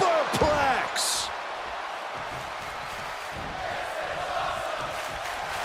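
In a WWE wrestling video game, a superplex off the top rope lands with a sharp slam, followed by the arena crowd's steady roar as a commentator shouts excitedly over it.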